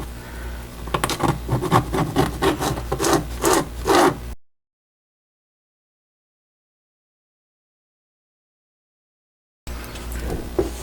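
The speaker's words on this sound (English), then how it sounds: "take a little piece of styrene here and we're going to burnish this down in" A small piece of styrene is rubbed firmly back and forth, burnishing something down on a model train station interior. The quick, close scraping strokes run for a few seconds, stop in a silent gap, then resume briefly.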